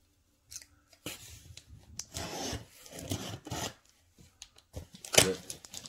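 A cardboard Nike shipping box being cut open: several close, rasping cutting strokes in short bursts with pauses between them, ending in one sharper, louder stroke.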